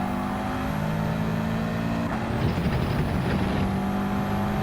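Race car driving in Gran Turismo 7 during a daily online race, with a steady engine drone and some louder, rougher engine noise in the middle, continuous throughout with no talking.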